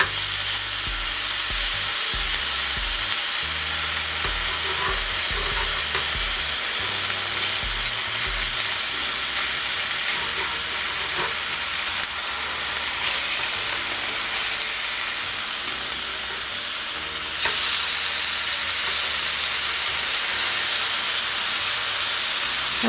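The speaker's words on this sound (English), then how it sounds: "And then you flip your fillet." A flipped fish fillet fries in a hot pan with a loud, steady, hissing sizzle that stays even and close for over twenty seconds, with only faint low rumbles beneath and no speech.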